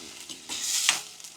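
Onion gravy for a peanut bhajiya curry being stirred in a pan: a brief, soft scrape and swish over a gentle sizzle, loudest near the end, with no voices.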